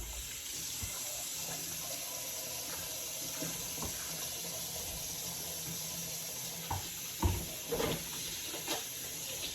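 Hands are washed under a running kitchen tap at home: a faint, steady stream of water with a few louder splashes toward the end.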